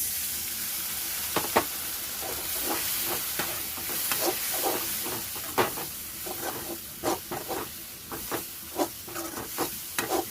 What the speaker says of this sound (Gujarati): મસાલાને બરાબર પ્રોપર રીતે સાતળશું અને પાકવા મૂકશું।